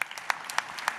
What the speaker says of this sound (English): I give them a round of applause for their hard work and competitive spirit today.